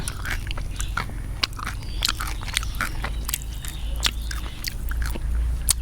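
Close, loud crunching and biting on a puffy freeze-dried snack, with dense irregular crackling bites repeating throughout, heard alone.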